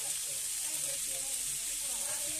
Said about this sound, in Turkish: Tavuklar kızarıyor